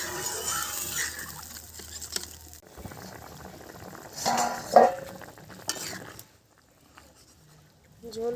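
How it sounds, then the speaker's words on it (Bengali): A pan of village-style magur and shing fish curry with potatoes bubbles at a low simmer, with brief clinks of a spoon stirring and a louder burst midway before the boiling fades to a quiet murmur. "ঝোল ফুটে গেছে,"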